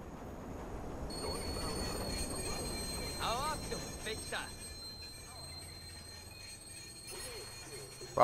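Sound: train passing in video game Watch Dogs

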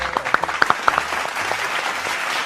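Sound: applause from a TV show audience

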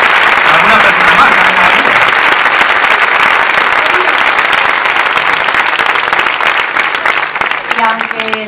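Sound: audience applause for comrades from France and Portugal

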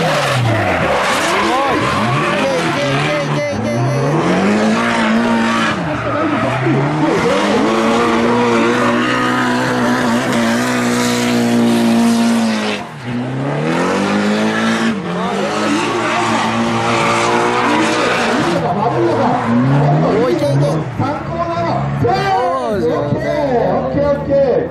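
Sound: race cars rounding the final corner

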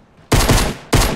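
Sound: gunshots in the video game Fortnite

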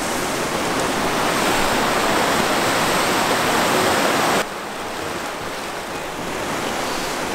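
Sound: stream and waterfall in a Finnish forest

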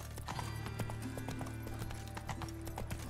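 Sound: horse Roach galloping in video game The Witcher 3

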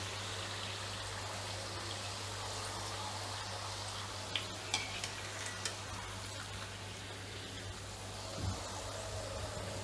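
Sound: khakhra frying in oil

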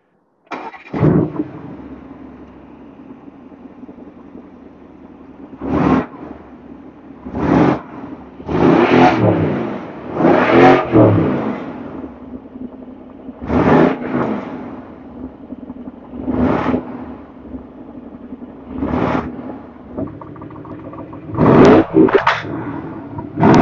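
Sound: sports car engine revving, exhaust valve open

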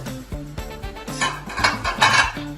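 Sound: spreading tomato puree in a pan with a utensil

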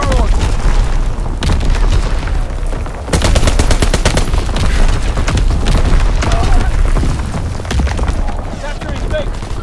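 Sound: incoming enemy artillery explosions in Call of Duty: WWII video game

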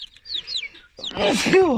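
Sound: chickens clucking on morning release

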